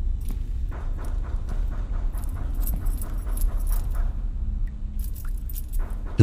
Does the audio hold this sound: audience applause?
no